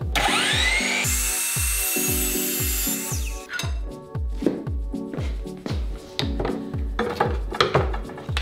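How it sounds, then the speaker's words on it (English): A drill press whirs steadily with rapid, rhythmic low thumps, then cuts through an aluminum rod with a harsh, grinding screech that fades into irregular scraping. "I drilled an almost centered hole on the drill press for the anchoring screw"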